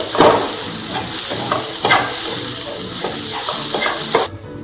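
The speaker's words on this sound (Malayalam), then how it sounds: "ആ തേങ്ങ ചേർത്ത് നന്നായിട്ട് വറുത്തെടുക്കാം" Grated coconut dry-roasting in a hot pan for a red snapper curry: steady close sizzle punctuated by repeated scraping stirs of a spatula, roughly once a second, cutting off abruptly at the end.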